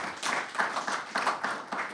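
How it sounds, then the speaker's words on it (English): A small audience applauds at an aquarium milestone event, a brief burst of close, irregular hand claps lasting a couple of seconds. "give a round of applause"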